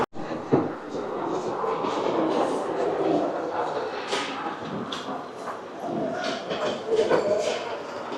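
A miniature train runs along its track to deliver food to a restaurant table in Prague, its rolling rattle steady and close beneath lively restaurant chatter and voices.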